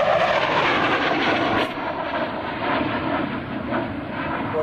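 An F-104 Starfighter jet at an airshow roars past with its afterburner, a loud, sustained broadband rumble that dips slightly partway through and then continues steadily.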